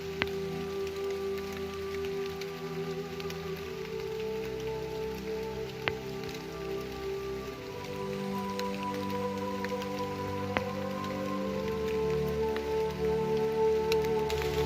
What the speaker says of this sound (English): Well, it is raining, guys.